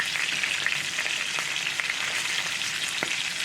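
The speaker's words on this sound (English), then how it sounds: "Start basting with this garlic butter." A New York strip steak sizzles steadily in a cast iron skillet as garlic butter is spooned over it, a constant loud frying hiss with faint spoon scrapes and pops and no talking.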